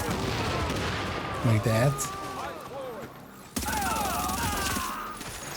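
Video game artillery fire: steady muffled gunfire and booming blasts rumble in the background while someone talks over them.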